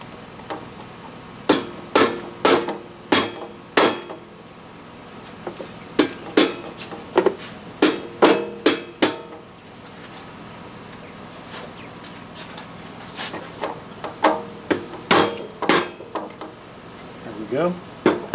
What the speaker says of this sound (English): Take my rubber mallet hammer here. I'm going to try and smack it here and here to try and get it to break loose.